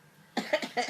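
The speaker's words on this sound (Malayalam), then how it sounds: "അങ്ങനെ ചുമച്ചേ" A child coughs on request while playing with a grandmother: a short burst of three or four close, rough coughs in quick succession after a brief quiet moment.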